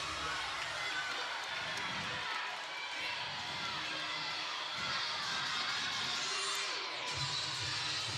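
A crowd in an arena cheers and shouts at a Penn State gymnastics meet against Minnesota, a broad, fairly distant roar that swells and falls under a commentator's talk.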